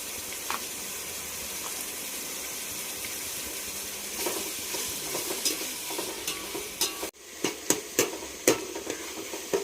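Tomatoes with salt cook down in a pan for Andhra fish curry, chepala pulusu, in a steady, close sizzle, then a spoon scrapes and stirs in sharp repeated strokes.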